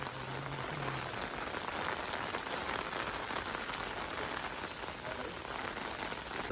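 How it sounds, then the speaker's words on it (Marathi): Heavy unseasonal rain pouring onto water in a village, a dense steady hiss of drops that stays even and unbroken throughout, with no voices. "इकडे भरपूर मोठा पाऊस पडतोय हे पाण्यात बघा किती जोरात पडतोय"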